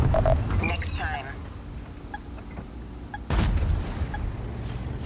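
A tank fires an HE round in a tank video game, heard as two heavy booms roughly three seconds apart, with a low rumbling tail over steady engine hum.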